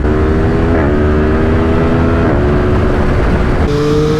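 A Triumph Street Triple 765 motorcycle engine accelerating, a loud, close, continuous revving drone that climbs in pitch, drops briefly at gear changes and climbs again, with no voices over it.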